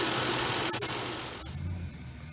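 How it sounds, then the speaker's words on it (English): A Lexus GS300 engine idles close by with a steady low rumble that drops away partway through, leaving a quieter, faint hum. "the car is sounding good to my ears. This is the way I like it to sound."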